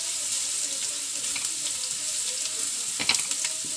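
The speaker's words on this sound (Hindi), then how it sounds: "एक मिनट में इसको भी भून लूंगी लहसुन को" Garlic and cumin fry in a pan for dal palak, a close crackling sizzle with small pops and a brief louder burst of spattering near the end, no talking.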